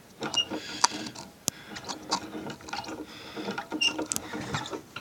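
A clamp is tightened down on a shoe seated in a rail: close, irregular mechanical clicks and ratcheting rattles, with a few sharp metallic snaps among quieter scraping handling noises.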